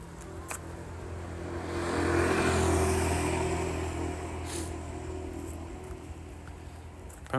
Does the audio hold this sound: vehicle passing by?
yes